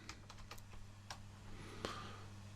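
Keys clicking on a computer keyboard while entering whole numbers into an Excel spreadsheet, a quiet, irregular run of sharp taps over a low steady hum.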